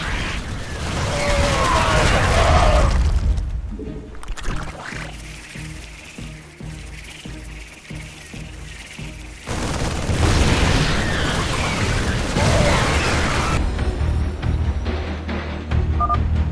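Heavy booming explosions and crumbling roars as an outpost is destroyed in StarCraft II: Heart of the Swarm, loud bursts rising and falling over a dense game soundscape with a short quieter stretch between.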